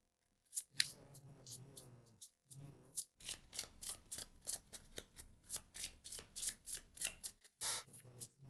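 Oracle cards being shuffled by hand, a quick train of crisp riffling flicks and papery slaps repeating steadily, close and soft, with a brief pause near the start.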